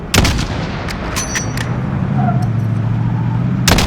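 Gunfire in the shooter game Call of Duty Modern Warfare: several sharp, loud shots in quick bursts at the start, then a low rumbling engine drone, and a final close shot at the end.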